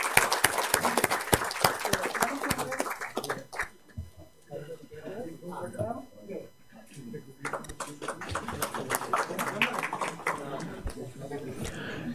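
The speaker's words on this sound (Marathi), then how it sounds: "जोरदार टाळ्या होऊ द्या त्यांच्याकरिता." Audience clapping at a felicitation ceremony where an honoree receives a book and memento, bursts of applause at the start and end with a person talking over quieter moments in between.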